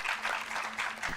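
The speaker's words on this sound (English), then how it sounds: "Please give them a very big hand clap." A brief burst of crowd applause at a university debating championship in Kampala, dense and steady, with a faint low hum running underneath.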